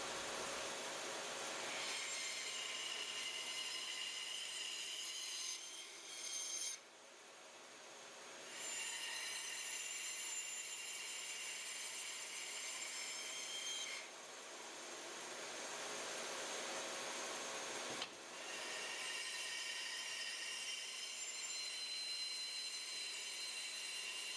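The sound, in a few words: saw blade cutting wood for a painting stand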